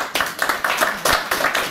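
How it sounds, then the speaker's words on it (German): Audience applause at a dialect poetry evening in Bad Fischau, Austria: a short burst of hand clapping with distinct individual claps standing out, fairly close and steady, without speech. "Einen Applaus bitte"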